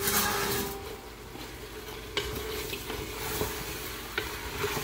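Turnips fry and sizzle in spices in a pan, a steady close crackle with occasional spoon scrapes and taps as they are stirred, no talking.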